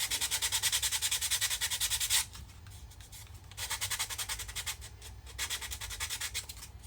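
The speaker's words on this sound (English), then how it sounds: "on the bottom, give it a quick sand, make sure you get the excess off" Sandpaper rubbed back and forth across the bottom of a wooden model ship, close and fairly quiet, in rhythmic scratchy strokes with a short pause midway before the sanding resumes.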